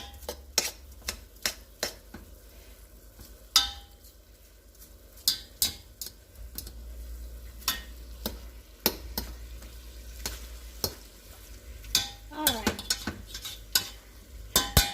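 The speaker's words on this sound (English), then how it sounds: "As soon as I scrape this meat off this frozen roll of sausage, or sausage roll." Meat being scraped off a frozen sausage roll, a string of sharp scraping and clicking strokes at irregular intervals over a low background hum, close and fairly quiet, with no talking.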